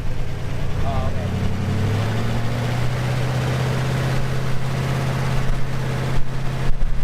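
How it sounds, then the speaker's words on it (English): A 1959 Plymouth Fury's engine runs close by, with a low steady rumble that swells as it is revved and holds a raised, droning pitch through the rest of the clip. "We'll rev it up, then we'll fill it."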